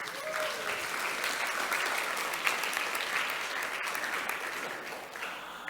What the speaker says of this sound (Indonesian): Tepuk tangan dong buat Berry.